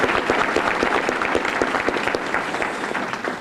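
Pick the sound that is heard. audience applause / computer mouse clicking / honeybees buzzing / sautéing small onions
audience applause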